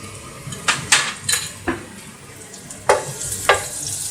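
Ginger and garlic sauté in hot oil in a pan for Kerala-style homemade fried rice, a close sizzle broken by several sharp stirring scrapes and clinks of a spoon against the pan.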